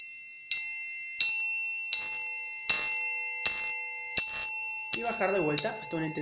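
A metal triangle is struck repeatedly at steady intervals, its ringing bright tone building from soft to loud as the strikes continue, with a voice briefly talking near the end.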